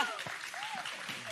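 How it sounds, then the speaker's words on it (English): Clapping from a conference crowd at a crypto wallet event in Bangkok, a steady, moderately quiet patter of hands with a few voices murmuring underneath. "Yes, please clap."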